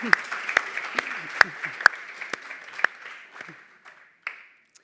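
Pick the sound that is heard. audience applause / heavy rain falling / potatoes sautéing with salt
audience applause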